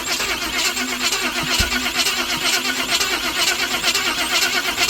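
A 388 stroker V8 in a solid-axle-swapped S10 Blazer cranks continuously with a fast, rhythmic churning of the starter, loud and close, with a brief stumble partway through as it tries to catch.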